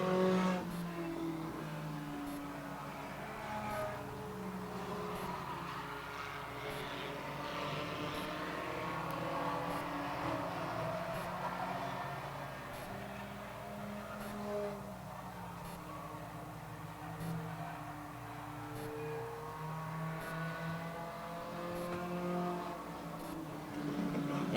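Race cars lap the track during an enduro, a steady engine drone rising and falling at moderate distance as the cars pass, continuous and fairly faint throughout.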